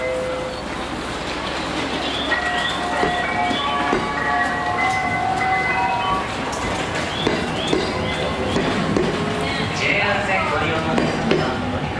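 An Aomori Railway local train bound for Hachinohe pulls away from a station platform, its steady rail rumble and clatter filling the scene alongside tonal whines and background station activity.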